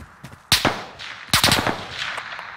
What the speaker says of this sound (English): Gunfire will alert you to an enemy's presence.